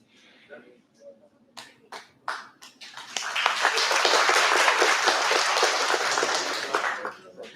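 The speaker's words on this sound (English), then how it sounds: "can we have a round of applause?" Audience applause at a memorandum signing ceremony between ICAB and BUP: a few scattered early claps build into sustained, dense clapping from a room full of people, then taper off near the end.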